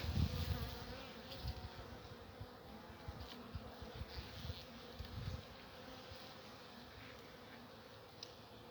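Honey bees buzzing softly inside a hive during a winter check, a steady low hum with occasional closer passes, quiet and continuous with no talk.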